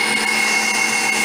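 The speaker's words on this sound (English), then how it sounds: "I know it's a stand mixer." A stand mixer whips egg yolks and sugar for tiramisu, giving a loud, steady, close-up motor whir with a constant high whine throughout.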